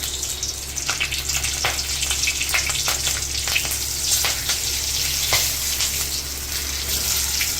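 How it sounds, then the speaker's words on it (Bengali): Nigella seeds and slit green chillies sizzle in hot oil in a kadai, a steady close hiss broken by scattered sharp crackles and pops, with no voices. "তেল গরম হলে কালো জিরে দিয়ে দিলাম, চেরা কাঁচা লঙ্কা দিয়ে দিলাম কয়েকটা"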